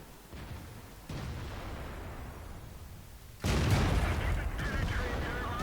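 Tank cannon fire in World of Tanks aimed at a KV-3 lands in a few heavy booming blasts, the loudest one near the end followed by rumbling echoes, with no talking heard.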